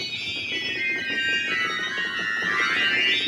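A two-rank mixture stop on a pipe organ sounds alone: a bright, shrill, sustained cluster of high tones with no clear pitch, holding steadily and shifting slightly as the notes change.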